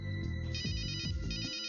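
In the adventure game Runaway, a telephone rings with a bright, repeating electronic trill, several pulsing bursts in quick succession, loud and alone with no talking.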